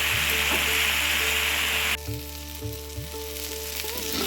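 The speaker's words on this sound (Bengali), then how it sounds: "এবার সব একসঙ্গে আমি ভেজে নিচ্ছি।" Vegetables with ginger and green chilli fry together in a pan, a loud steady sizzle that drops abruptly about halfway through and continues more quietly with a few stirring knocks.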